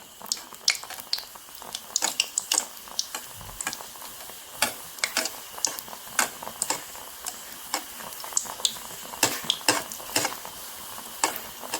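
Food frying in a pan until crisp, with irregular sharp crackles and pops over a low sizzle, plus occasional clinks of a utensil against the pan.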